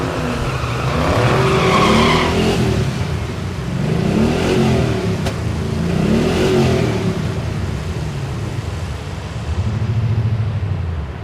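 Drag race cars, one a Camaro, launch at Thunder Valley in Noble, Oklahoma, engines revving hard and rising in loud repeated surges, with tire squeal and skidding between bursts.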